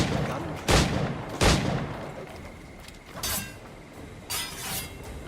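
Gunfire in the video game Assassin's Creed IV Black Flag: a few sharp, loud shots spaced apart, two close together early and a couple more later over a low background hum.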